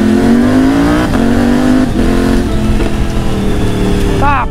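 A new motorcycle revs hard and loud close by, its engine pitch climbing in repeated surges as it accelerates away, with excited voices talking over it.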